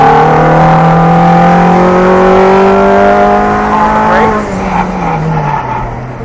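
A car accelerates under power down a straightaway, its engine note climbing steadily and loud up close, then dropping sharply after a shift and rising again.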